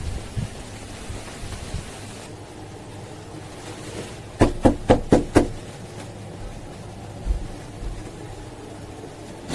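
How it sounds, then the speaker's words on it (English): Five sharp knocks on a door in quick succession, fairly close, set against a steady rain-like background with no talking. "I'm getting ready to come knock on the door."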